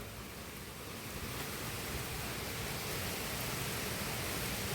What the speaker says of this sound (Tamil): காற்று மழை சேர்ந்து நிற்கிது